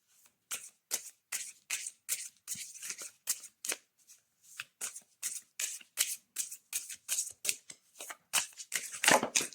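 Oracle cards being shuffled by hand in a steady run of quick riffling bursts, close and crisp, with no talk over them.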